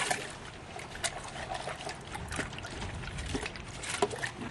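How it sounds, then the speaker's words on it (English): Soapy water rinsed out of a measuring cup into a water bucket during a car wash, with close splashing and trickling that rises and falls for a few seconds without talk. "I'm going to go ahead and rinse this out and get all the soap out of there"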